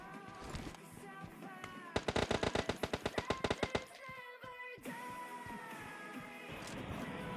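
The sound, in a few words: gunfire in the video game PUBG Mobile Lite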